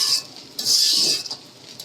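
Noodles with coriander leaves being stirred in a large wok, a utensil scraping and clinking against the metal in two bursts of bright, scratchy sound, close and fairly loud, with no talk.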